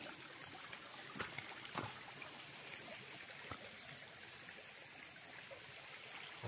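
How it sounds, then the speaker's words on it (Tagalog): A small stream trickles along a rural path in Basud, a faint, steady babble of flowing water heard from close by, with a few soft knocks and no voices. "Ay, may kunting batis."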